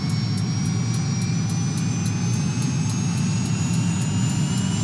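The turbine engine of a King Air C90 in the X-Plane 11 flight simulator runs during start-up, giving a steady, loud whine with a rising tone over a constant low rumble and faint periodic ticks.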